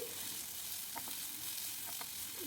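Two medium onions, thinly sliced, fry in a tablespoon of oil in a pan on the stove. A soft, steady sizzle is broken by a couple of light stirring scrapes.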